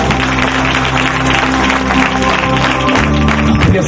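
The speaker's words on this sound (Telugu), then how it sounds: "చప్పట్ల కొట్టి దేవుని మహిమ." Church congregation clapping at a Telugu Christian youth gathering, a dense, steady wash of applause that fills the whole stretch at high level with no break.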